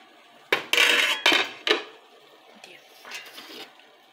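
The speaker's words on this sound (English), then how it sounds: "now we're putting that one here in our steamer" Several sharp metallic clanks and clatters of a pan being set into a steamer pot of boiling water, four close knocks in quick succession, followed by fainter rattling.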